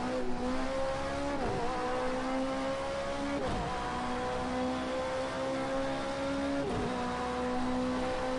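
LMP2 race car engine at the classic Hockenheim circuit in a racing game, a loud sustained drone that builds steadily through each gear and drops sharply at three regular upshifts.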